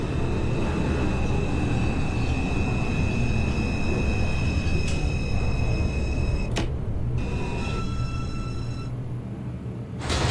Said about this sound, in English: This is a Manhattan-bound 5 local train.